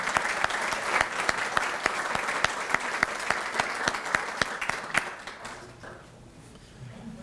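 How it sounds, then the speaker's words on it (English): Audience applause honoring the Sister City Committee at a community volunteer salute event, a steady roomful of clapping with sharp individual claps standing out, fading away after about five seconds. "if you'd stand and take the applause and appreciation from your committee"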